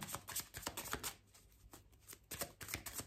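Tarot cards being drawn and handled from a deck, close up: a quick series of soft papery flicks and slaps in bursts, with no voices.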